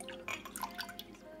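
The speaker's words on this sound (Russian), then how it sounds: "Выливаем молоко в кастрюлю." Milk pours steadily into a saucepan, with soft dripping and splashing textures throughout the short stretch, close and fairly quiet.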